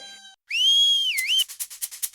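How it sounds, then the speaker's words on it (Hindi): A single person whistles a sustained, clear tone that dips and rises, then breaks into a quick series of short rhythmic chirps, loud and close. "अरे बावले, सीटी क्यों बजा रहा है?"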